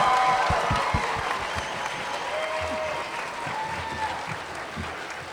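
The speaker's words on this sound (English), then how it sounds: "Let's give them another round of applause." Audience applause after a first-grade elementary school performance fills the hall, a dense steady wash of clapping with crowd noise running the whole time.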